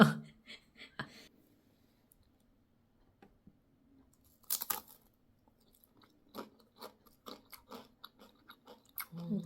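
Several people crunch and chew bites of a Doritos-based snack dish in scattered, faint bursts. Quiet murmurs and soft voices fall between the bites.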